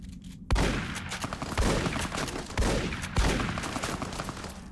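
Gunfire erupts in Fallout: New Vegas during the Honest Hearts canyon fighting. Several heavy, booming shots land close and loud at irregular intervals, each trailing into rumbling echo.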